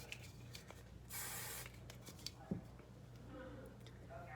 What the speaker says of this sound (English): I'd hairspray that down.